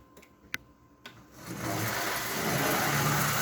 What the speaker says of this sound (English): Let's just see if this little motor would do what we think it can.